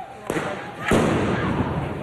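Fireworks set off by demonstrators during a May Day street protest pop twice in quick succession, sharp bangs ringing out amid crowd noise and background voices.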